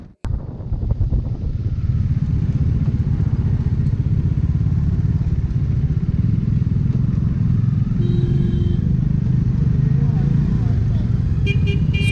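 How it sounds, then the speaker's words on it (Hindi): A motorcycle cruises along a road on the bridge over the Brahmaputra River, its engine a steady loud rumble with wind noise and brief horn toots from nearby traffic near the end. "बाइक चलाने में उतना ही मज़ा आ रहा है उस पर."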